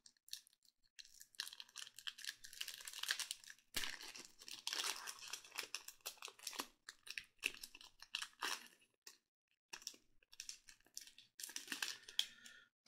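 A foil Core Set 2021 collector booster pack being torn open, with crisp crinkling and tearing of foil wrapping in bursts and short pauses, close and fairly quiet.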